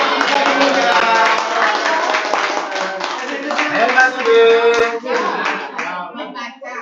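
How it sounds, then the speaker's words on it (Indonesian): Clapping from a group of teachers at an education training session, a quick round of hand claps mixed with overlapping voices calling out and chattering throughout, fairly close and steady. "Ya cepat tepuk tangan."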